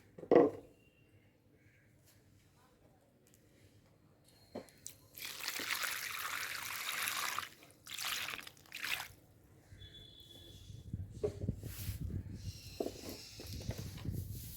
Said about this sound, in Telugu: ఇలా పెట్టుకొని మనం వాటర్ పోసుకుంటే